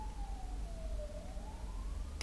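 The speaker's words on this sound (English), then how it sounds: "sorry about the sirens in the background" A siren wails faintly in the background, one drawn-out tone slowly falling and then rising again over steady low traffic rumble, with no voices.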